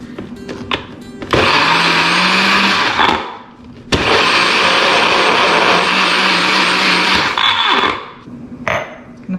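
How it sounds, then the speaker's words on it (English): A blender pulses food in two loud bursts of a few seconds each, separated by a short pause, with clicks before and after. "We're just gonna pulse this in our blender"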